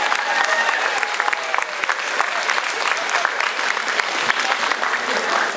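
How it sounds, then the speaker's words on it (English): An audience at a school year-end assembly gives a round of applause, brisk and steady clapping at even volume throughout, with a few voices faintly audible beneath. "please, round of applause."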